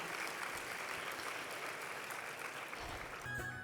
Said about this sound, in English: So please give yourself a round of applause for everything you've done.